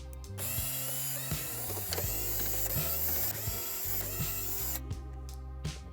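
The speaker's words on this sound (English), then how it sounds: "using a T20 Torx bit, let's remove these 8 screws surrounding this radio navigation head unit" A Torx bit backing screws out of a Volkswagen radio navigation head unit, heard as a dense mechanical whirring and ratcheting with repeated clicks, close and loud, then stopping near the end.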